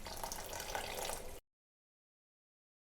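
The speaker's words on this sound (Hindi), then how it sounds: "अब पानी का छींटा दे के मसालों को भूनेंगे" A splash of water hits masala frying in a cooking pot for chicken handi, a loud steady sizzling hiss for over a second that cuts off abruptly into silence.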